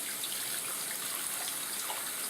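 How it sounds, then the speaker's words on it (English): Dirty soapy water pouring out of a bowl after washing pewter miniatures makes a steady, close, faint rushing splash with no pauses. "Like I will drain the water out, because you can see how dirty it is."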